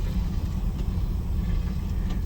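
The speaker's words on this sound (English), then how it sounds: "Starting the Ford iconic power steering noise." Lincoln Mark V with a faulty Ford power steering pump, a low steady engine rumble with a droning mechanical whine running continuously beneath it, close and fairly loud.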